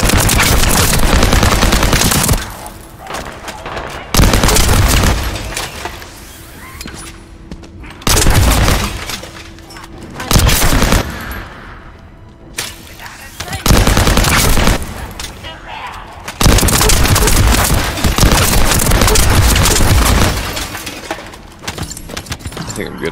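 SMG fire in the shooter game The First Descendant comes in loud, close bursts of rapid automatic shots, separated by quieter gaps, with a player talking at times.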